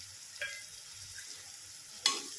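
Kartule (bitter gourd) with salt being stirred in a pan for a dry bhaji: a faint, low sizzle broken by two short utensil scrapes or clinks, close by and without speech.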